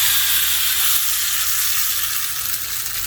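Hot tempering oil poured into chutney sizzles loudly and steadily, a dense, close frying hiss that continues without a break throughout, with no voices.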